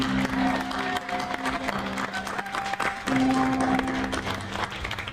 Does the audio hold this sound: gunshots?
no